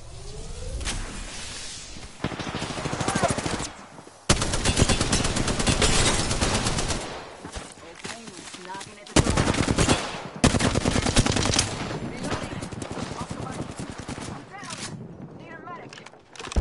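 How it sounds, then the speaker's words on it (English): Enemy gunfire in a shooter game comes in long rattling automatic bursts, loud and broken by short gaps. A player talks over it in a raised, urgent voice. "they're shooting at me!"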